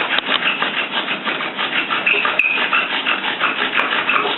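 Bow drill spindle rubbing hard against a wooden fire board to raise smoke for a primitive friction fire, a steady rhythmic scraping grind, close and loud, running continuously without pauses or talk.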